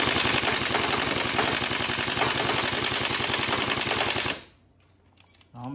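An electric airsoft AK rifle fires BBs in a loud, rapid full-auto burst lasting about four seconds, with evenly spaced mechanical clacks, then cuts off abruptly to near silence.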